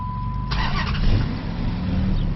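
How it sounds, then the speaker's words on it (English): A Magnum car engine, first start after a dropped valve seat repair, cranks and catches, then settles into a steady idle, loud and close, with no talking. "Let's see if it starts"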